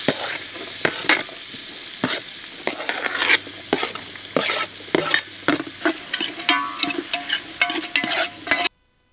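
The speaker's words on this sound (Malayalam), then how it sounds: "ഇനി അതിലേക്ക് സവോള അരിഞ്ഞു വെച്ചിരിക്കുന്നത് ഇട്ട് കൊടുക്കാം" Sliced onions fry in hot masala for kabsa with a bright sizzle and frequent sharp stirring scrapes, close and loud, before cutting off abruptly near the end.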